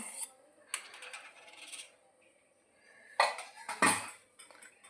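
White sauce with cheese and mayonnaise is stirred in a pan, giving scattered close metallic clinks and scrapes of a utensil against the pan separated by quiet gaps.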